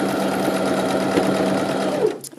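A sewing machine stitches steadily along the side seam of a trouser pocket, a close, even whirring hum that stops abruptly near the end.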